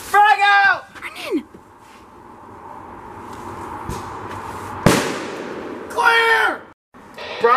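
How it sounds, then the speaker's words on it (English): Hand grenade detonation in a comedy skit: one sharp, loud blast in the middle, between bursts of excited shouting before and after. "This isn't a firework, Allie. It's a hand grenade. Frag out!"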